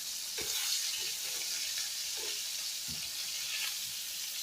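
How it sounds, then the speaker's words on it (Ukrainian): Fish frying in a pan at home, a steady soft sizzle with faint crackles and a few light scrapes or stirring taps, moderately near and alone without talk. "тут ще декілька частинок висмажиться"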